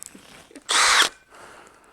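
A power drill whirs loudly in one short burst of about a third of a second, set against a quiet room, during repair of a crash-damaged Toyota Hilux.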